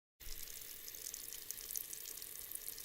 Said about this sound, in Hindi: ये तो टूटी का पानी है